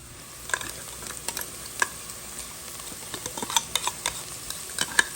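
Garlic, chili and ginger fry in a pan with a soft continuous sizzle, punctuated by scattered sharp ticks and pops and light spoon clicks as they are stirred.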